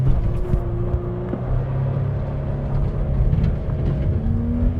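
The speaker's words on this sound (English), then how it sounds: "I don't know many 3 liters that will do a burnout and then chirp the tires into second" A cheap 3-liter pickup truck engine revs hard during a burnout, a loud, close, droning growl with pitch shifts as the revs rise and settle, and no clear tire chirp stands out.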